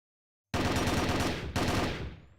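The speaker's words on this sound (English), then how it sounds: "Shots getting fired by Soft as Hell and his MX towards Afro" MX rifle gunfire in a tournament video game match, two loud close bursts of rapid automatic fire, the first about a second long and the second shorter and fading, with no talking.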